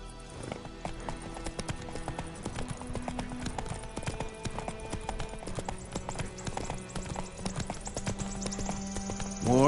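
Geralt's horse Roach gallops in The Witcher 3, a steady rapid clip-clop of hooves running throughout over a constant game music and ambient bed, moderately loud and close.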